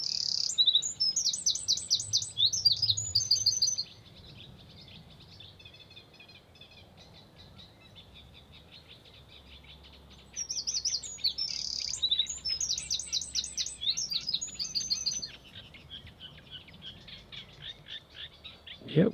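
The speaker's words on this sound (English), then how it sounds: "So this is the warbler that I recorded." Bursts of high, rapid warbler song, played back from a recording, in two bouts separated by quieter stretches, with faint insect chirring underneath.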